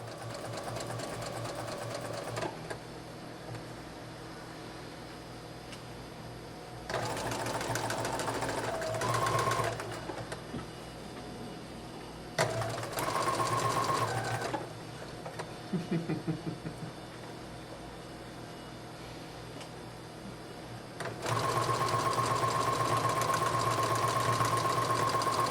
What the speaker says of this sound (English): We're going to take it back to the machine again and we're going to zigzag stitch right along the edge of that.